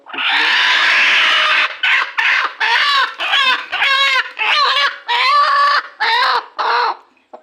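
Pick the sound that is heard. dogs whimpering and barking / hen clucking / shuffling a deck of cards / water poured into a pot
hen clucking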